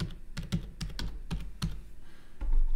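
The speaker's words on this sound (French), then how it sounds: "Il me demande le nom d'utilisateur, je dois taper admin." Fingers typing a login name on a computer keyboard to access a Netgear router, a quick run of distinct, close key clicks with a short pause before a final press.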